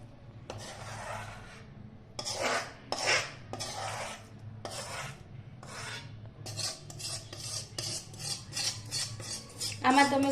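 Melted jaggery being mixed into a dry mixture in a pan with a utensil, a series of close scraping, rasping strokes in an irregular rhythm, with a few louder scrapes and clinks near the end.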